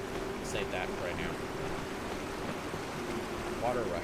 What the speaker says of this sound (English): Water rushing over here.